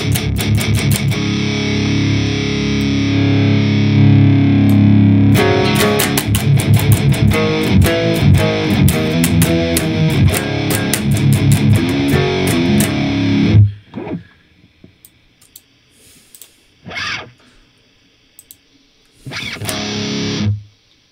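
Heavily distorted electric guitar played through the Diesel amp model in Audio Assault Califer Amp Locker, loud chugging riffs for about fourteen seconds, then sparse short bursts and ringing stabs with near-silent gaps.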